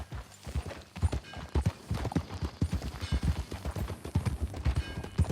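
Horse hooves clip-clop steadily on the ground in Red Dead Redemption 2, a close, even rhythm of many strikes at riding pace, with a brief whinny-like sound.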